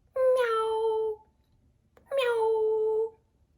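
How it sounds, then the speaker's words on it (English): A cat meows twice, each call clear, drawn out and falling in pitch, close and loud with a short pause between, and no talking over it. "Cat says, meow, meow."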